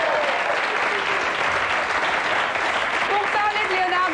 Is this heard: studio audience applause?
yes